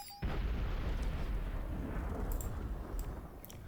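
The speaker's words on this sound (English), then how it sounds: "Long-range plasma cannons being absolutely annoying as all hell." Long-range plasma cannons fire in the strategy game Beyond All Reason as a sustained, dense rumble of heavy booming blasts that sets in abruptly and continues without pause, with faint sharper pops above it.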